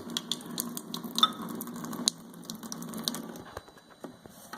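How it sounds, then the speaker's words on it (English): Water runs into a small container marked for measuring, a faint, thin trickle with light splashes and drips, and one sharp tap partway through. "Fill this up to 6 milligrams or milliliters of water."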